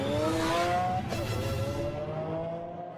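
Lamborghini Aventador prototype on a race track in 2008, its engine note rising in a steady pitch sweep, loud and close for about a second, then a second tone sliding down as the car moves off and fades.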